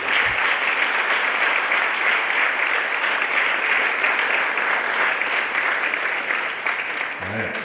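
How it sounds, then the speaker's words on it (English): A large audience applauds panelists at an environmental event, a dense, steady wash of clapping filling the room for about seven seconds before tapering slightly at the end. "Can I have a warm round of applause for our panelists"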